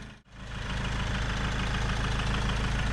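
A Peugeot Boxer van with a 3-litre Iveco turbo diesel engine drones steadily after a brief dip at the start, a loud continuous low rumble with no talk over it.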